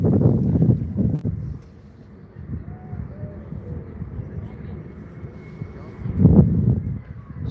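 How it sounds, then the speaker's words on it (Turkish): Wind gusting on a pier jutting out from the shore by the sea in Sinop, a low rumbling buffet against the microphone that swells and eases, with someone talking over it at times. "şu anda rüzgar esiyor biraz"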